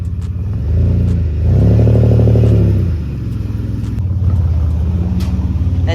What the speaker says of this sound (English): And just like this, first car is coming into the engine bay.